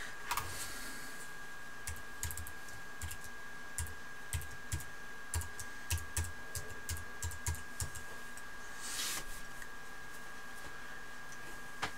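Fingers type an Apple ID on a computer keyboard, a steady run of close, crisp key clicks over a quiet room hum, pausing briefly near the end.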